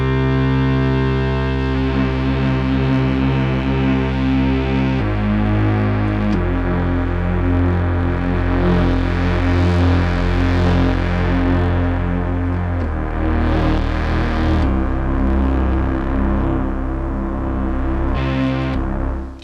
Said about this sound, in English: We're going to bring in some modulation here to the waveform.